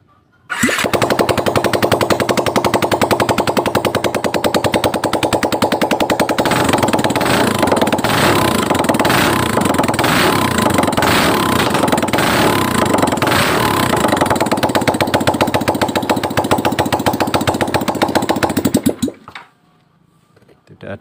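A Yamaha Vixion motorcycle engine with worn piston rings sputters to life and settles into a loud, steady, rattling idle that runs for most of the clip before cutting off near the end.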